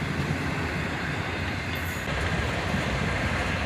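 An intermodal freight train rolls past a crossing, a dense steady rumble with rattling wheel noise and clatter, close and loud throughout.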